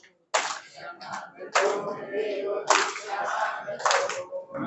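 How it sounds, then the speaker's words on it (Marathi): A crowd claps at a Marathi devotional kirtan gathering, several loud bursts of hand-clapping rising and fading in waves, close and dense. "सगळ्या भिक्षेकरींसाठी आपण टाळ्या वाजवून त्यांचा आनंद व्यक्त करूया"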